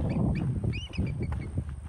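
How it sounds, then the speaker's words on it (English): A bald eagle calls along the Kissimmee River on the Florida Trail, thin high chittering piping notes in short bursts, moderately faint over a low rumbling outdoor background. "That you're hearing right now is a bald eagle."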